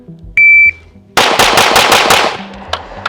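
Rapid 9mm pistol shots fired with +P defensive ammunition come as a loud fast string of about six reports after a timer beep, then a couple of scattered later shots.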